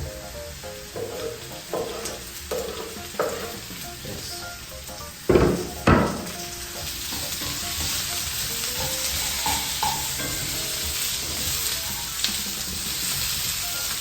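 Onions frying in a pan for a quick lunch, a steady close sizzle with scraping stirs and a few sharp utensil knocks against the pan, no talking.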